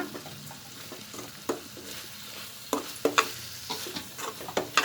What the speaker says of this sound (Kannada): ಈಗೆಲ್ಲನೂ ಹಾಕಿದ್ದೀನಿ, ಮಿಕ್ಸ್ ಮಾಡ್ಕೊಂಬಿಡೋಣ